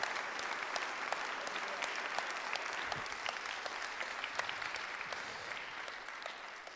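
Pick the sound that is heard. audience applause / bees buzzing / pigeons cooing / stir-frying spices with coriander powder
audience applause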